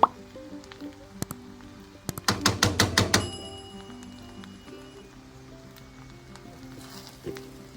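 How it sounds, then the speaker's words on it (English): Gizzard fried rice stirred in a pan, with a faint low sizzle broken by a quick, rhythmic burst of scraping clatter midway and a few scattered clicks. "You just give it a nice stir so it doesn't get burnt at the bottom."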